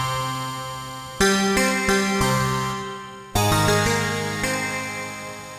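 Keyboard sampler preset called DG sound, bank 1 sound 1, plays a few sustained tones and chords with sharp attacks that slowly decay, three distinct strikes, clear and close with no voices.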